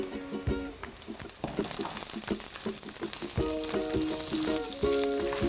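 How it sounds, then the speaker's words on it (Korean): Garlic and onion fry in oiled pan, giving a steady sizzle, with metallic stirring taps and scrapes throughout and no speech. "먼저 향을 내기 위해서 마늘을 좀 볶아주세요"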